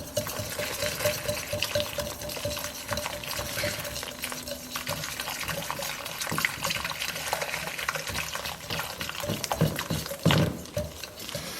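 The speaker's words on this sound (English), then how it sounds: "I'm going to stir in the water, a little bit at a time." Water is stirred a little at a time into chickpea flour batter in a bowl: liquid sloshing with soft scraping and splashing, a steady wet mixing sound at moderate volume.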